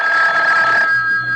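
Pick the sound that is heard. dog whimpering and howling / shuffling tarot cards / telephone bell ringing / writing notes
telephone bell ringing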